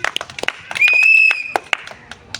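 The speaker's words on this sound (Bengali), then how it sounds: "সকলে জোরে হাততালি।" An audience claps at a village ball-rolling game for knocking down bowls, with scattered sharp claps spread across the moment and a sustained tone in the middle.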